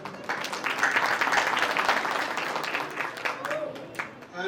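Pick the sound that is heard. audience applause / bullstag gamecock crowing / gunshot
audience applause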